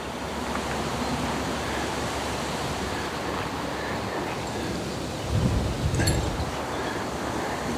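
Wind blowing across a lake bank at a carp fishing syndicate, a steady broad rush of air buffeting close by, with a brief clink and a gust-like thump near the end.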